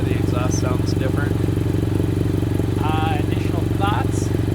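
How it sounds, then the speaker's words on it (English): A BMW F800GS motorcycle fitted with a Two Brothers aftermarket exhaust idles steadily at close range, its low, even rumble running under a man's speech throughout. "I have two brothers exhaust, so that's why the exhaust sounds different."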